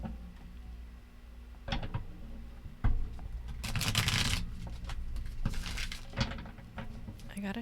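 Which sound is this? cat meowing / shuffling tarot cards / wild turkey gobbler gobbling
shuffling tarot cards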